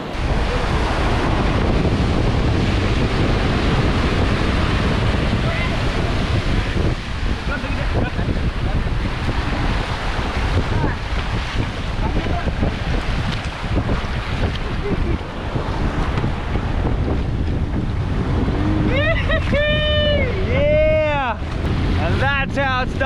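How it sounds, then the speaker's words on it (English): Strong wind buffets the microphone over choppy water and a small fishing boat's running engine, loud and continuous; a voice speaks briefly near the end. "It's windy today."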